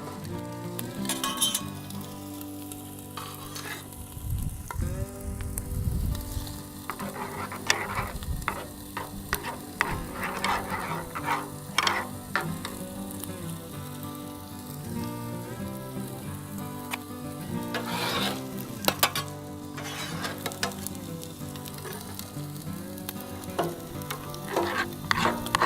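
A Philly cheese steak sizzles and fries on a Blackstone griddle, with steady crackling hiss broken by scraping and clinking of a spatula stirring the meat, music playing underneath throughout.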